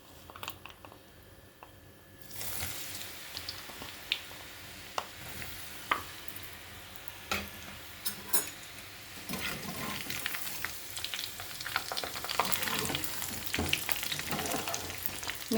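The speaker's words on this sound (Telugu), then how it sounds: "మీడియం ఫ్లేమ్లో వేయించుకుందాం" Peanut pakodi frying in hot oil over a medium flame: a quiet start, then a steady close sizzle from about two seconds on, with scattered sharp pops and crackles.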